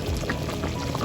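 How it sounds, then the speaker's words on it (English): About two tablespoons of tamarind juice are poured into a pot of Massaman chicken curry, a brief liquid pour close up. "So we put the tamarind juice around 2"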